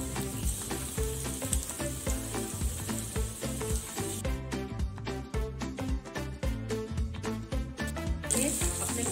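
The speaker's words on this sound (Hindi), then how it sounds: "ये अपने गोल्डन ब्राउन तक आपने चारों तरफ से इसे फ्राई करना है" Semolina balls dipped in batter sizzle and crackle steadily in hot oil as they deep fry until golden brown, close and continuous with bursts of bubbling.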